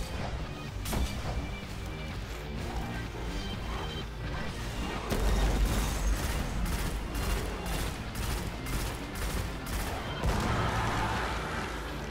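Bursts of gunfire in the sci-fi shooter Destiny, from a fight against the boss Alak-Hul in a Nightfall strike, with sharp repeated shots growing denser and louder midway over busy, continuous game effects and music.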